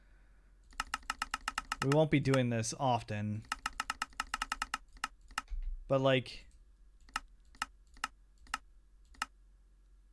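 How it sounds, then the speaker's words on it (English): Crisp computer keyboard and mouse clicks during modded Minecraft play, sharp irregular taps close to the microphone, mixed with someone talking in the middle. "I know you guys are probably getting super tired of hearing this clicking."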